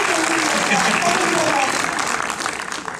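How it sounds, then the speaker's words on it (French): Audience applause for a future bride and groom at a film premiere, a broad wash of clapping from a crowd filling the room, loud and sustained before easing slightly at the end. "On peut les applaudir quand même."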